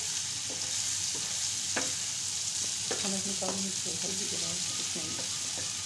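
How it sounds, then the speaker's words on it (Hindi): Tomato, onion and green chili masala with black pepper, salt and turmeric roasting in a pan for beef boti, with a soft constant sizzle and scattered spoon scrapes and clinks midway. "ये मसाला हमारा अच्छे तरीके से भुन चुका है और इसमें टमाटर और प्याज अच्छे तरीके से मैश हो चुका है"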